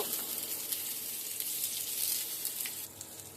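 Pieces of pointed gourd fry gently in fish oil over medium heat, producing a soft, steady hiss and faint crackle that stays quiet and close with no voices.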